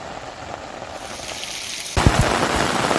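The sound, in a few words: heavy monsoon rain in Sabarkantha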